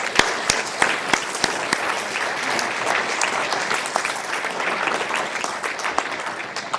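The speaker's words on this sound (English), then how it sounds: "Let's give a round of applause." A crowd at a military police welcome-home ceremony applauds soldiers, a few sharp individual claps at first merging into steady, full applause that carries through to the end.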